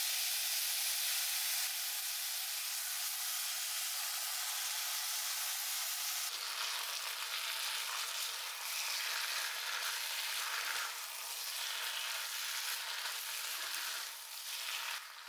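Drained boiled tapioca tossed in a pan of hot oil with curry leaves and dried chillies sends up a loud, dense, continuous sizzle and hiss, close by, with faint stirring, and no one talks.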